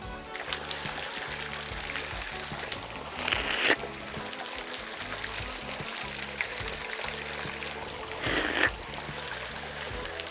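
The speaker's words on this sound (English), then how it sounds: "Look at this waterfall." A waterfall pours and splashes in a steady, rushing roar heard from a moderate distance, with two brief, brighter surges of splashing.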